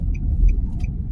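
A Nissan Elgrand rolls over a speed bump, heard from inside the cabin as a steady low road rumble with a soft mid-clip thump and faint light clicks, no talking.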